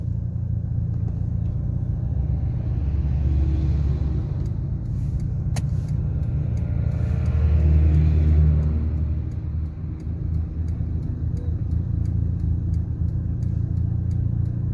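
Car driving during a driving lesson, a steady interior engine and road rumble that swells briefly as the engine revs, with no talk.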